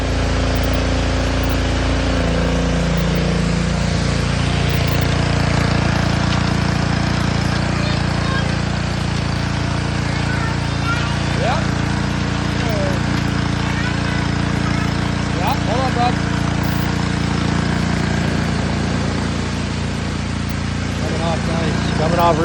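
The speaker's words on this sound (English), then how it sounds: "we're using a Honda 160 GCV is what I have for the pressure washer" Pressure washer powered by a Honda GCV160 engine running steadily while washing a Ford F-450 dually Super Duty pickup, a loud continuous drone throughout.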